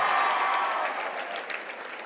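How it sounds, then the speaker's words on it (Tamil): A crowd at a Tamil political speech applauds in a steady, dense wash of clapping that fades slightly toward the end. "முழுக்க தலைவர் தளபதிக்காகத்தானே இந்த கைத்தட்டல்லாம்"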